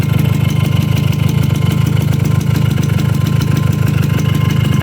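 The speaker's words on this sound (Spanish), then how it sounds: "Yo lo acelero un poquito ahí para que mantuviera" A Suzuki motorcycle engine, just back together after a crankshaft sprocket repair, runs at a steady, loud idle with a fast, even chug and a slight hold on the throttle, with no voices.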